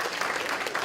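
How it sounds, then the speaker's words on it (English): Banquet audience at a 2018 PAL community dinner giving a brief, dense burst of applause, many hands clapping at once. "Let's give them a round of applause."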